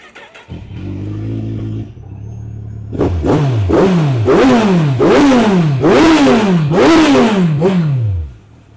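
A 2012 Kawasaki Versys 1000 motorcycle cranks with a whirring starter, catches and settles to idle, then gets about six sharp, loud throttle blips that rise and fall in quick succession close by.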